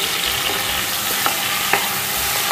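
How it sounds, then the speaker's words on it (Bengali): Chicken pieces fry in hot oil over high heat for a dhaba-style curry, giving a steady, close, dense sizzle broken by a couple of light scraping stirs. "তেলটা গরম হয়ে গেছে, এবার এক এক করে চিকেনগুলোকে আমি ফ্রাই করে নেব"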